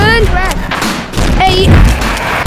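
Video game gunshots pop repeatedly over loud, continuous game sound and frantic talking, the booming shots blending into a dense, saturated mix.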